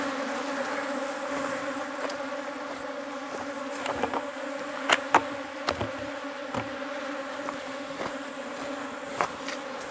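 A dense, steady buzzing of many defensive honeybees at an open top bar hive, close by, with occasional louder passes and brief knocks rising above the constant drone.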